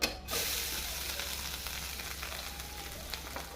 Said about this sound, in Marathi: तर आता आपल्याला खोबरं भाजून घ्यायचं आहे चांगलं.